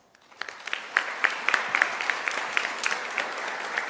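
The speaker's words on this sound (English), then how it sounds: "So give yourself a big round of applause." Graduate students applaud at a School of Medicine welcome ceremony, clapping that builds quickly from quiet into a steady, crisp patter with distinct individual claps standing out near the front.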